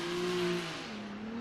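A VR-powered Nissan Z drift car driven by Chris Forsberg revs hard at a championship event, a loud engine howl that holds high then drops in pitch and climbs again, with faint tire noise underneath.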